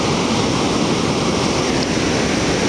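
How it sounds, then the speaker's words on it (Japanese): Ocean surf breaking at Sendai Shinko beach in Japan, a loud, continuous broadband wash of waves and wind noise filling the whole stretch with no voices. "波が多いですね。"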